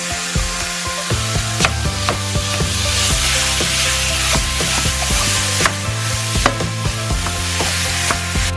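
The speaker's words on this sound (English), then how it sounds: "Now we are gonna add our turkey sausage in there and get that nice and browned up." Turkey sausage browning in a pan with bell peppers gives a steady, moderately loud sizzle, broken up by repeated scraping and knocking from a utensil stirring. No one speaks.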